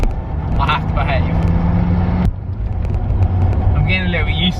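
Lancia Delta Integrale Evo 2 rally car with a turbocharged four-cylinder engine and four-wheel drive drives on a rainy road, a steady loud engine drone heard from inside, with a brief shift in tone midway and someone talking over it.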